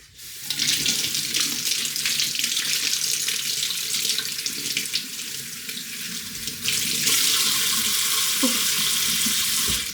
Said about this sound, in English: I'm gonna rinse it because I could see a little bit of the peel and I don't like that